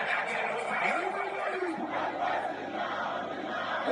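Dense crowd at the Duma Fest 2026 festival, a steady roar of many voices with shouting and chatter, close and loud throughout with no pauses.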